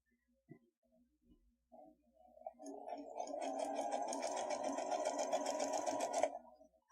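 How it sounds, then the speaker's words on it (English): Sewing machine stitching fabric along a marked line, a short start-up followed by a steady, continuous whir of rapid stitches lasting several seconds, close and fairly loud, then stopping abruptly. "I'm going to be sewing a little bit before and a little bit after."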